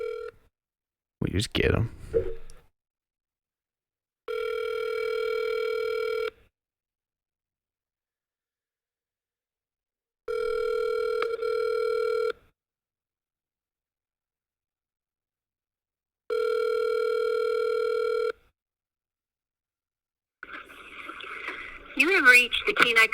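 A telephone call to a senator's office: a burst of dialing tones, then three evenly spaced ringback tones of about two seconds each, with brief speech at the start and a voice answering at the end.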